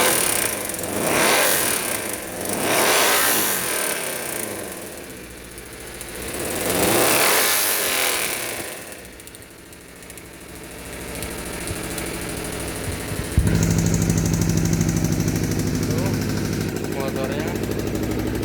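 The engine of an overheating Honda CBR 250RR motorcycle is revved in swelling bursts, close and loud, then settles into a rougher steady running note near the end. Broadband noise runs throughout.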